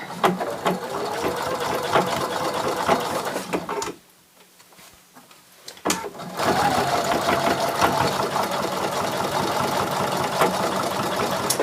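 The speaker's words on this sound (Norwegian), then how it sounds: "Og så syr jeg fast. Gjerne i sømmene." A sewing machine stitches a small fabric strip onto a round pouch, running in steady close bursts with a roughly two-second pause partway through before stitching resumes.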